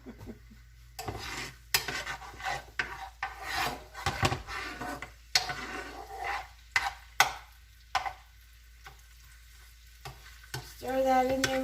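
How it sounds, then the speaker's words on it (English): Food sizzles quietly in a pot of Puerto Rican sancocho stew, with intermittent scraping and stirring sounds breaking in at irregular moments. "I hear it sizzling."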